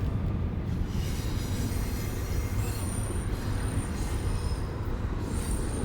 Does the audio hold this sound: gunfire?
no